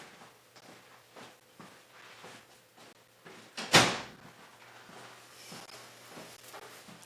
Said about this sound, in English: Let me close my office door real quick.